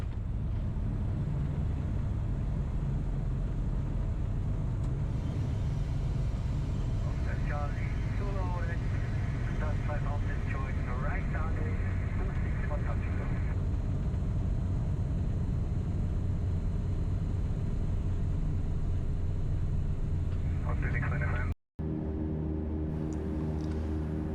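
A Tecnam P2006T aircraft approaches and lands on runway 26 at Birrfeld Airport, heard from the cabin as a loud, steady engine drone that continues throughout, with faint voices over it and a brief cutout near the end.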